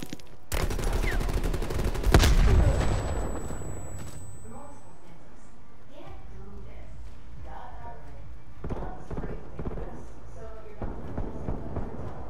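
Gunfire in Call of Duty: Black Ops Cold War opens with a loud, close burst of rapid shots. Scattered weapon fire and thuds follow across a busy battlefield mix, with voices calling out throughout.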